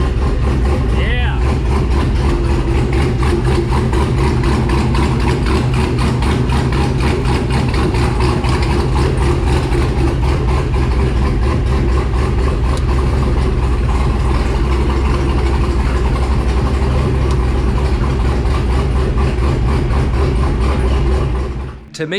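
A race Jeep's engine idles loudly and close by in an enclosed space, a steady deep rumble with a fast pulsing throb that runs unbroken and cuts off at the very end.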